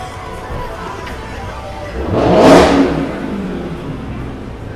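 A car engine revs once on a crowded Manhattan city street during a street festival, swelling loudly for about a second over steady crowd chatter and traffic hum.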